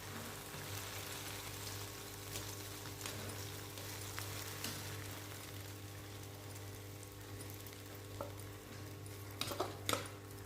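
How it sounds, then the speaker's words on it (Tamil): Pieces of bun fry in ghee for a sweet bun halwa, a steady low sizzle with occasional stirring scrapes and a couple of sharper clinks near the end. "அது நெய்லே போட்டு நல்லா வறுத்துக்கணும்"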